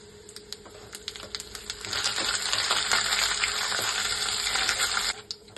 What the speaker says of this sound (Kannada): ಸಾಸಿವೆ ಹಾಕ್ಬಿಟ್ಟು ಉದ್ದಿನಬೇಳೆ, ಕಡಲೆಬೇಳೆ ಹಾಕ್ಕೊಂಡು ಸ್ವಲ್ಪ ಬ್ರೌನ್ ಕಲರ್ ಬರೋವರೆಗೂ ತಿರುಗಿಸ್ಬಿಡಿ